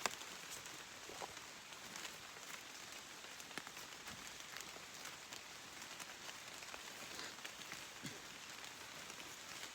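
Rain falls steadily on a surface outdoors, a dense, even hiss of drops with a few louder individual patters, continuous and close, with no talking.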